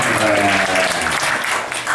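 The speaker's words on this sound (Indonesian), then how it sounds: "Oke, tepuk tangan semuanya." A crowd applauds steadily for a couple of seconds, a dense, continuous patter of many hands clapping close by.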